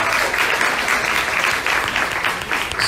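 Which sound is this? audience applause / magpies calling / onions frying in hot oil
audience applause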